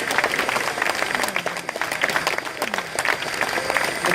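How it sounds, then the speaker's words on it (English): A crowd applauds loudly at the unveiling of restored steam locomotive 3526, a thick, continuous wash of clapping close by that holds steady for the whole stretch, with faint voices mixed in. "How about a big round of applause?"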